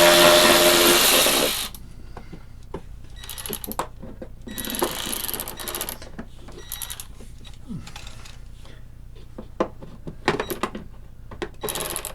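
A ratchet with a 3/8 drive extension clicks in short bursts while turning bolts on a lawn mower, after a brief loud burst of noise, with pauses and clanks of tools between the turns, up close.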